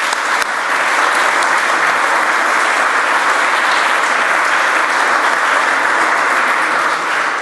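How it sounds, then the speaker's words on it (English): Sustained, even applause from a conference audience, loud and unbroken for several seconds, a wash of many hands clapping together with no talk over it. "I just want to make sure we give a round of applause to Mikhail and Georg for what they've done here."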